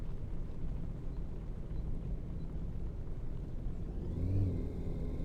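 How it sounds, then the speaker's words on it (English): Car engine idling in the driving game Taxi Life, a steady low rumble that rises into a brief rev near the end, close and even, with no talk. "Let's turn the engine on."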